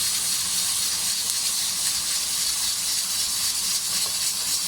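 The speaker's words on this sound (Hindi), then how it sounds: "प्रेशर कुकर की अभी सीटी बज रही" A pressure cooker lets off a steady, loud hissing steam release that runs unbroken and close throughout while lentils cook.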